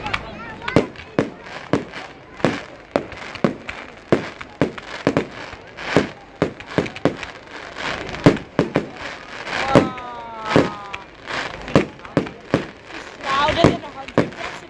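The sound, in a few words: Bonfire Night fireworks exploding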